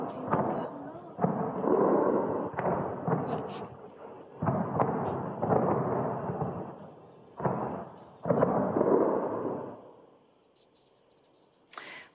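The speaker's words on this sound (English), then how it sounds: "these are the sounds of explosions heard in the early hours in Tehran." Distant explosions from Israeli strikes boom over Tehran in the early hours, a series of deep, rolling bursts, one after another, then fade into quiet near the end.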